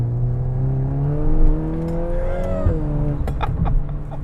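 A 380 hp Volkswagen Golf R with an aftermarket intake revs up, its engine note climbing steadily over about two seconds with a hint of turbo spool, then dropping back to a steady hum.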